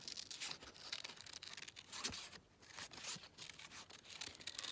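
Paper being cut out by hand for a junk journal glue-book page, a soft continuous rustle and snipping with brief crinkles, close and quiet, with no talking.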